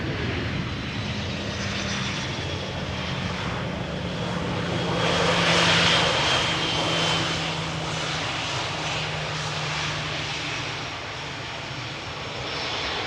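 A plane arrives at the Polderbaan runway at Schiphol, its engines a broad, steady roar that swells to a peak mid-way as it passes nearby and then eases off, alone without talking.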